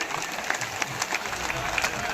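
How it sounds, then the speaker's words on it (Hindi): Brief applause from an audience at a Hindi-language AAP political rally, a dense patter of clapping heard at a moderate distance, steady throughout with no talk over it. "इनके लिए भी जोरदार ताली एक बार बजा दीजिए"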